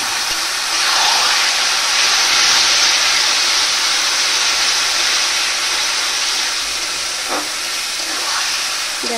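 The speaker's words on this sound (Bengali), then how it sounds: "এবার আমি এই সিদ্ধ করা কচু আমটা দিয়ে দেব ফোড়নে" Boiled taro and mango dropped into hot tempering oil sizzle as a loud, steady broadband hiss that lasts throughout, with a few faint clinks near the end.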